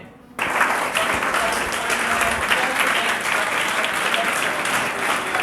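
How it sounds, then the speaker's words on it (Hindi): After a quiet moment, a lecture-hall audience bursts into loud, continuous applause to welcome a guest, the clapping holding steady and dense to the end. "भवानी जी का तालियों के साथ में स्वागत।"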